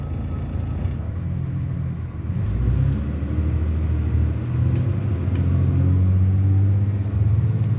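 Routemaster bus RML 887 pulling away from traffic lights in West London, a deep diesel rumble that swells and builds steadily as it moves off, loud and close from onboard.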